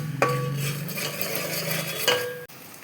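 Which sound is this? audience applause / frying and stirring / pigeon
frying and stirring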